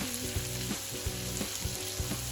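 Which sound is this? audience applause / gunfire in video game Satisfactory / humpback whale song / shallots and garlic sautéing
shallots and garlic sautéing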